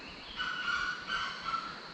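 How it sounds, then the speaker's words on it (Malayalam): Wild junglefowl calling in the forest at Nadukanippara along the Agasthyarkoodam trek, a short, harsh, cackling call from a moderate distance over quiet background. "അതാണ് കാട്ടുകോഴിയുടെ ശബ്ദം"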